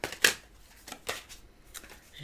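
Tarot cards are riffled and shuffled by hand during a reading. There are several crisp, papery bursts with short pauses between them, close and moderately loud.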